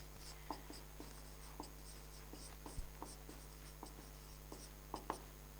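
Chalk or marker writing an expression on a board, a quiet series of short scratchy taps and strokes spaced irregularly, faint and close with low room hum beneath.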